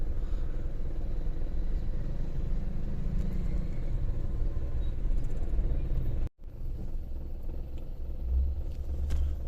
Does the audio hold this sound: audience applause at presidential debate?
no